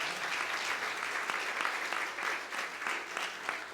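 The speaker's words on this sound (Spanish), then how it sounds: "Yo no sé si alguien le puede dar un aplauso a Jesús" Church congregation applauding steadily, a dense wash of clapping that swells and dips over a few seconds without speech.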